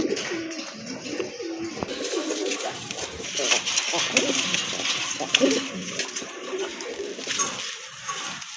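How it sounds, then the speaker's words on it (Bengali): Pigeons, including a large male Rajgolla, coo in low, rolling calls close by, partly under someone talking, with a busy background of other birds. "হিউজ সাইজের একটা রাজগোল্লার নর কবুতর দেখতে পাচ্ছেন"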